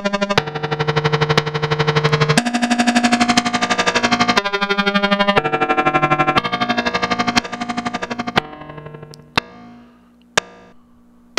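A synthesizer voice run through a Pittsburgh Modular Dynamics Controller Eurorack module in VCA mode, a rapid train of buzzy tonal pulses with shifting pitch that drops in level near the end, leaving a few sparse clicks.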